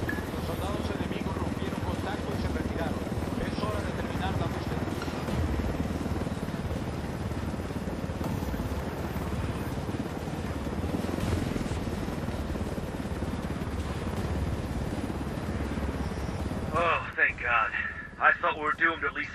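A helicopter in the video game Ghost Recon Wildlands keeps up a steady rotor drone through the whole stretch, moderately loud, with game sounds and a voice near the end.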